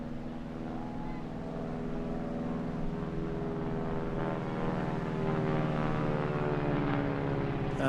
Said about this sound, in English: that Pratt & Whitney R1340 Wasp radial engine with 600 horsepower